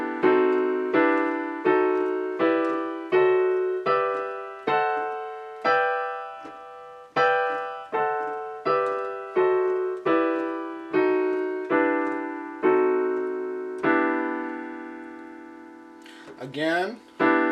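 Harmonized scale played as drop 2 diminished sixth block chords with the melody on top, about sixteen ringing chords in a steady, even rhythm, each decaying before the next, with a longer final chord and a brief voice at the end.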